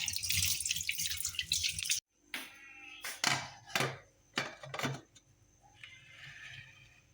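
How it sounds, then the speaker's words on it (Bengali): A cooking pot lid being rinsed under running water, first a continuous splashing stream, then after a pause several separate clattering knocks and splashes of the lid against the sink, ending with softer trickling. "ঢাকনাটা ধোয়া হয়নি ধুয়ে নিয়ে আসি"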